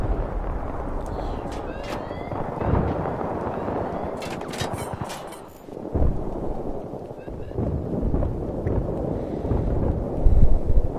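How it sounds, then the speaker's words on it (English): Mortar explosions in Battlefield 3 on the Grand Bazaar map boom and rumble heavily, mixed with dense gunfire and continuous loud battle noise, with voices talking now and then. "They got a mortar."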